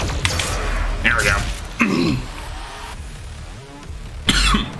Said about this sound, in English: Sorry if I'm coughing and throat's still bothering me a little.